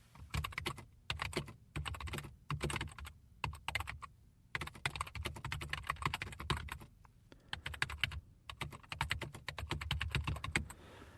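Steady typing on a computer keyboard, a close, quiet patter of key clicks in irregular bursts with short pauses, no voices.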